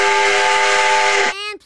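A JNR C61/62 steam locomotive whistle blasts loud and close as a sustained chord-like tone for over a second, then cuts to a shorter, thinner toot and a hiss of steam.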